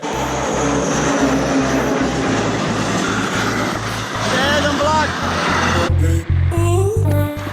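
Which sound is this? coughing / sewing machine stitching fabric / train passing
train passing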